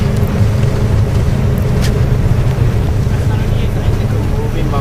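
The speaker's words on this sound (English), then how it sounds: "And you can hear the jake brakes of the truck." A heavy truck's engine brake drones in a steady low rumble while descending a mountain pass near a border crossing, continuous and close, with faint background noise.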